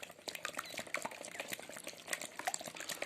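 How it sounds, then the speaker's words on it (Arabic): Two room-temperature eggs and a splash of vanilla are whisked together for pancake batter, giving a quiet, busy, rapid wet clatter and sloshing that keeps going without pause, with no talking. "نزلنا برشة الفانيليا وهنضرب كده مع بعض المكونات دي"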